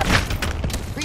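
A quick burst of Apex Legends gunfire in a one-second rapid fusillade of loud, close, punchy shots with heavy booming low end and no gaps between them.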